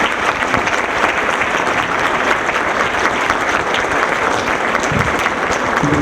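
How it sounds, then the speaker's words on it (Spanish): An auditorium audience at a legal conference on transparency gives loud, dense applause, many hands clapping steadily and evenly for six seconds without letting up. "le damos un gran aplauso para el evento y para ustedes"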